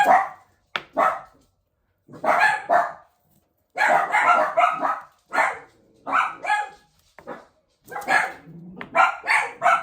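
Dogs bark repeatedly and loudly nearby in choppy bursts with short gaps, a couple of voices overlapping.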